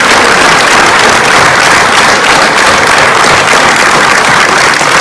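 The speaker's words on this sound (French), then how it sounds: "On peut les applaudir très fort." Loud, dense applause from an audience fills the whole stretch continuously, a crowd clapping for the Mephisto orchestra at the end of a show in Valensole.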